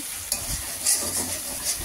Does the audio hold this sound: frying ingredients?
yes